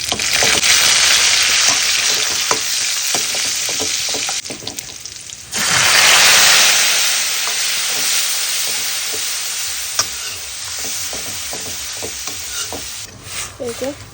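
Dal with its spice mix sizzles steadily in a pan as home-cooked dinner is stirred, a dense frying hiss with a brief lull midway before the sizzle surges back, broken by scattered scrapes and clinks.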